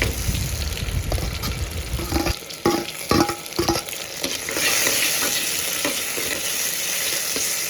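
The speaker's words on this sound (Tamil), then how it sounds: "அதில் தக்காளி போட்டு நல்லா வதக்கி எடுத்துக்கலாம்" Garlic, onion and tomato sautéing in a pan for an anchovy fish curry: clattering stirs and scrapes give way to a steady, bright sizzle as the tomatoes settle in.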